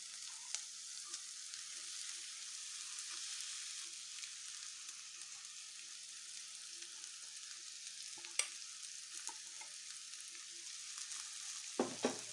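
Ground masala paste frying with small anchovy fish in a pan gives a faint, steady hiss of sizzling, broken by a few soft clicks and scrapes near the end.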